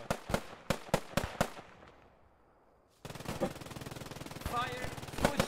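Rapid bursts of machine gun fire in a military video game, five or six sharp cracks in quick succession, then a lull before a denser stretch of continuous firing with other battle noise and voices.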